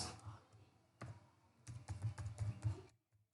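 Computer keyboard keys clatter in irregular bursts, a quieter patch early on and then a denser, louder run of clicks before it stops, with no talking.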